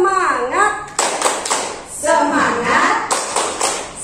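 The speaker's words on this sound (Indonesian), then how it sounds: "Tepuk semangat." Kindergarten children perform a spirit clap with a teacher, rhythmic bursts of hand clapping alternating with sung, chanted voices in a lively call-and-response pattern.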